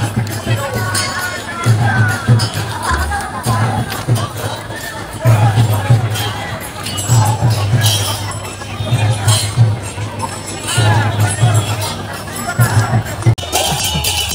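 A huge outdoor crowd at the Jagannath Rath Yatra 2024 procession fills the air with loud, dense hubbub and chatter, a low rhythmic drone pulsing underneath while someone talks close over it.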